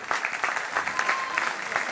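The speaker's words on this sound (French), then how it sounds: "Vos applaudissements pour l'équipe de Taekwondo." Dense clapping from a crowd for a taekwondo team at a demonstration in Bazeilles, France, steady and moderately loud, with no break over the short stretch.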